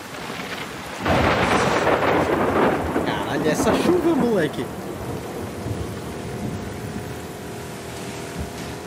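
Heavy rain pours steadily while a deep thunder rumble rolls in, loud and close, in the video game The Last of Us Part II, then fades to a softer continuing downpour.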